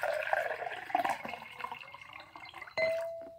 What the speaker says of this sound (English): I'm gonna take another glass and I'm gonna put some more water in it.